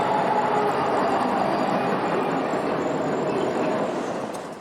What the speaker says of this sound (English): the 28 SD80 Max that Conrail uses almost exclusively on the Boston line